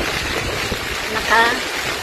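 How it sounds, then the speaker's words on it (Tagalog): Strong, large waves churn on a lake during a typhoon, a dense, continuous roar of wind and surf with a brief louder surge near the end. "Malalakas na po yung alon, malalaki na po siya."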